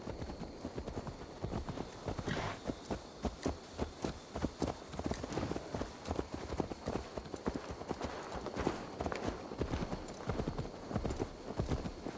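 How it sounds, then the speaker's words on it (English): Steady clip-clop of horse hooves at a walking pace in Assassin's Creed Valhalla, continuous and fairly close, over a soft ambient background. "Let's return the horse."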